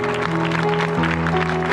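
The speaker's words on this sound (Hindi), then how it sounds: "ताड़ी ना रोकियो, ताड़ी मारी जाओ" Dense, continuous clapping from a church congregation fills the whole stretch, layered over sustained musical tones, with no voices standing out.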